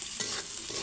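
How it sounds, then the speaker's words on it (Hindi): Spices frying in oil in a pan, a continuous close sizzle with faint stirring scrapes, steady and fairly loud for under a second. "और मसालों को थोड़ा भूनेंगे पकने तक ताकि मसाले भी इस तेल में अच्छे से पक जाए"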